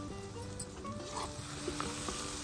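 A chutney of dried Bombay duck (bombil) paste fries in a pan with a steady, soft sizzle and a few faint stirring scrapes, quiet and close.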